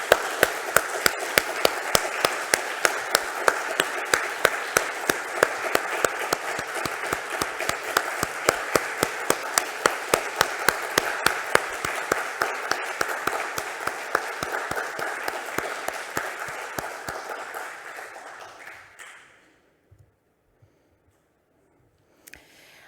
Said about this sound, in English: So a big clap for them.